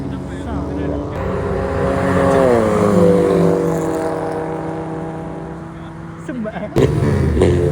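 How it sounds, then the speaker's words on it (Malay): A passing Ferrari sports car on a night street, its engine revving loud and close with rising and falling harmonic tones, rumbling under excited voices. "Wah, ada Ferrari bang"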